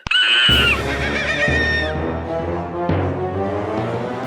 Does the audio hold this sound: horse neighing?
yes